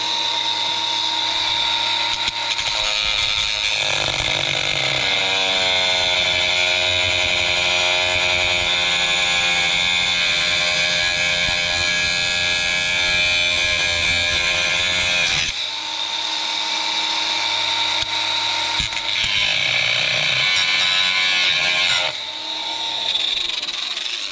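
A cutoff wheel grinds through metal on an old minitruck, a loud, sustained high-pitched screech with shifting tone as pressure changes, briefly easing before cutting resumes.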